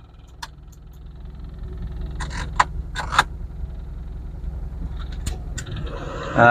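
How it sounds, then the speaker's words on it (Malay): A Perodua Kancil's engine idles with the air conditioning switched on, a steady low hum with a few sharp clicks and metallic clatters over it, then a louder burst at the end. "So kita akan start dulu kereta ni. Okey, kita akan on aircon dia."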